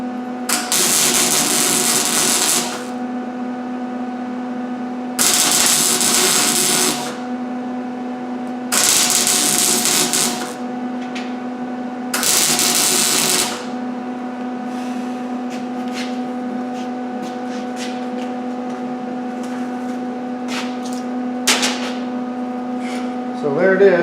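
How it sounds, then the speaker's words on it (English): Tack welding on homemade gold mining equipment, four loud bursts of arc welding crackle of about two seconds each, separated by short pauses, over a steady electrical hum, with quieter clicks and taps afterward. "Okay, let me weld this other side."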